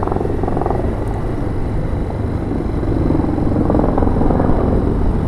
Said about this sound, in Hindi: हेलीकॉप्टर भी चल रही है भाई साहब